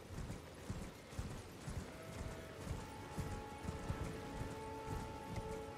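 Horse hooves clip-clopping while riding in Elden Ring, a steady quiet gallop rhythm with faint mechanical clinks and a low ambient tone underneath.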